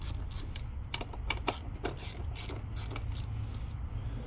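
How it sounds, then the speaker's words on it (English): A 10 mm socket ratchet loosening throttle body bolts on a Chevrolet Equinox, rapid close clicking of the pawl in short uneven bursts over a low steady hum. "I'm gonna pop these bolts loose."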